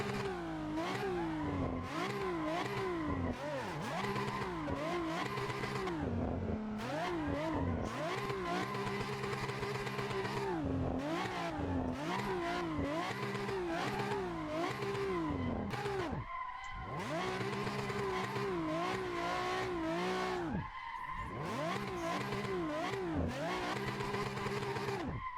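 A car engine revs and tyres squeal continuously while drifting in the Assetto Corsa racing game, the engine note rising and falling steadily through repeated throttle blips with no talk.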